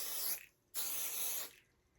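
Two close hissing bursts of spray baste adhesive onto a quilt, the first short and the second longer, separated by a brief pause.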